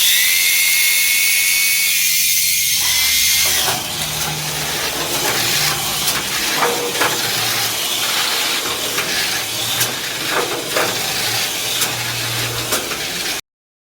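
Small electric motor of a Tamiya Astute E-Max toy car on used batteries, a loud, steady high-pitched whine that holds throughout, close by, with slight shifts in pitch.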